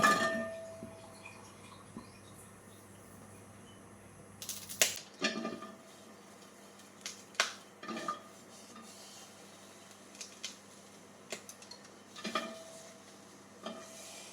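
A cooking pot set down on a home stove, then scattered light clinks and scrapes of utensils and vessels as washed green chillies go in, one sharp knock near the start followed by intermittent clatter over a steady low background hum.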